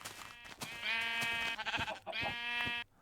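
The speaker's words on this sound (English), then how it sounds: "Ooh, black sheep." Sheep in Minecraft beta 1.7.3 bleating in two drawn-out, wavering calls, each preceded by short clicky steps, close and clear with no talking.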